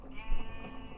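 Sheep bleating in the Minecraft video game, one short wavering bleat, near and moderately loud over a low game background.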